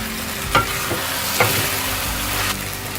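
Cooked okra bhujia is stirred in a pan, with a spatula scraping in a few distinct strokes over a continuous close sizzle.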